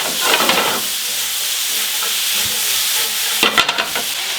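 Mushrooms and onions sweating in a pan for beef stroganoff, a steady soft sizzle broken by short bursts of stirring and scraping at the start and near the end.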